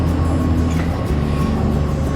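A metro train rides along with a steady, loud low rumble and a constant mechanical hum that holds evenly throughout, with no voices.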